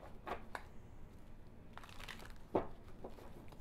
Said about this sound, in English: this deck is really hard to shuffle on camera